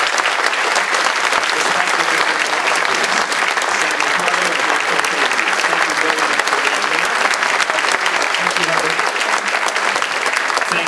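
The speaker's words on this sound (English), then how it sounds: "let's have another round of applause for our two candidates" Sustained, dense applause from an audience at a San Jose mayoral debate, steady and loud for the whole stretch with no break, clapping for the two candidates.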